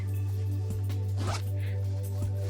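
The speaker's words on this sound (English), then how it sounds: "I can open the zipper, and there is pillow form inside." A zipper is drawn open on a sewn throw pillow that holds a pillow form. The pull is a short, quiet rasp over a steady low hum.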